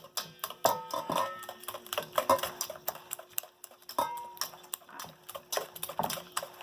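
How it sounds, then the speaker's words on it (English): A wire whisk mixing honey cake batter by hand in a bowl, with rapid, uneven clinking taps against the bowl sides in close, steady bursts. "I'm going to mix everything nicely. I'm starting with a whisk."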